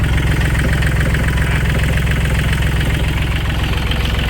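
Kubota L3608 tractor engine idling: a loud, close, steady low diesel chug with an even, rapid knocking pulse throughout.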